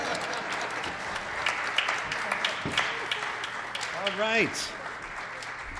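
A radio studio audience applauds to fill airtime, a dense, sustained round of clapping with someone speaking briefly over it as it winds down.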